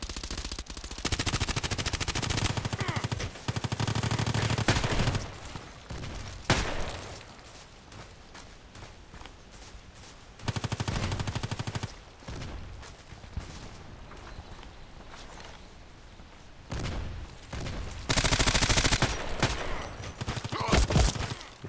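Rapid bursts of gunfire from the Cobra gun in the Contract Wars shooter, loud and close, coming in several long volleys with short gaps and some footsteps between them, a voice talking over parts of it.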